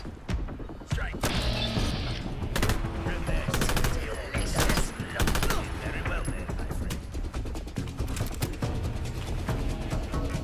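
Rapid gunfire in the video game Fallout London, bursts of loud close shots and automatic fire with crashes and thuds, a voice talking between the bursts.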